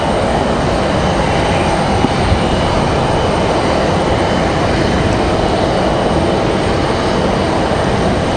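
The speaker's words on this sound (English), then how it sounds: "Looks like it's going to be Breeze Airways coming in from Portland." A Breeze Airways airliner from Portland on final approach into Raleigh-Durham International makes a steady, loud, broad roar that holds unbroken throughout, with no talking.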